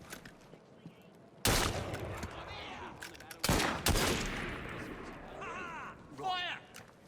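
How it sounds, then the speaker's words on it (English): Two sharp gun salvos in Assassin's Creed Syndicate, the first crack followed a couple of seconds later by another, with shouting voices and scuffle sounds around them. "Draw your weapons and fire!"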